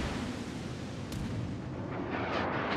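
USS Missouri battleship firing high-explosive shells in World of Warships, a dense continuous rumble of heavy gunfire and booms, loud and sustained with no clear gaps.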